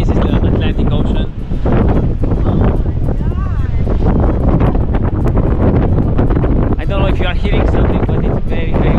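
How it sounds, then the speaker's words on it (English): Strong wind on the Atlantic coast of Ireland blasts the microphone in a constant loud roar, and voices talk over the buffeting throughout. "It's so windy."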